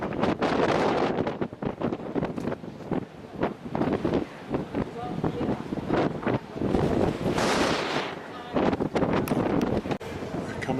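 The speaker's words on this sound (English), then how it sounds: "Very windy." Strong wind on the deck of a cruise ship on a lake roars and buffets the microphone continuously, with gusty low rumbling and a voice speaking intermittently underneath.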